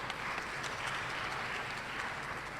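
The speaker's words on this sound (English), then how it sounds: "I'm happy you're clapping for me" An audience claps steadily throughout, a soft, even patter of applause heard from a distance with no voices over it.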